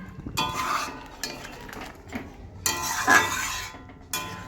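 Metal spoon scraping and clinking against a cooking pot while stirring cooked papaya and carrot vegetables, several irregular clattering bursts, close and moderately loud with no talk.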